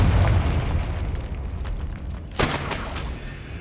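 Confringo fire spell blasting in the Hogwarts Legacy video game, a heavy rumbling explosion with a fresh burst midway, loud and close, then rolling debris and crackle.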